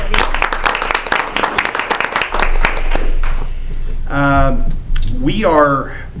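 A burst of close applause with rapid, dense clapping for a few seconds, fading as voices take over.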